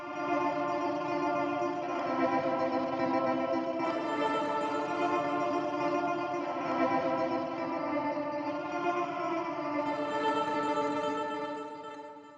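A thick, sustained guitar drone with tremolo picking through effects pedals, smeared with echo and reverb, steady and loud throughout with shifting layered tones and no voices.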